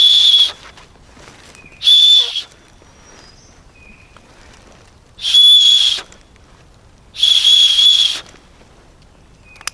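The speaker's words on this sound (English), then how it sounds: "it's got a built-in whistle on the clip" Four sharp, shrill blasts from a whistle built into the clip of an Amheh Ural 32L tactical backpack, each about half a second long, spaced unevenly with quiet gaps between, loud and close.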